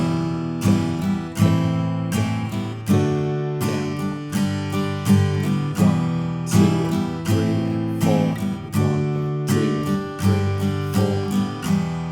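Acoustic guitar strumming the main chord progression of a song, a steady down-up rhythm with regular chord changes, loud, close and unaccompanied by voice.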